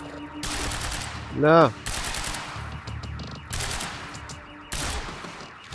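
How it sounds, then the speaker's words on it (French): Assault rifle bursts in Quantum Break: loud, close rapid-fire volleys come in several separate bursts with short gaps between them, while someone speaks briefly and a short tonal game sound rings out early on. "on va prendre le fusil d'assaut, allez, recharge"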